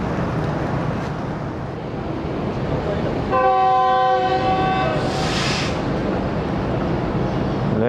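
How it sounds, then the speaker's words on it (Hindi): Shalimar Express pulling out with a loud tonal horn blast sounding for about two seconds over steady rumbling train noise, close by, with a brief hiss afterward. "शालीमार एक्सप्रेस रवाना होते हुए"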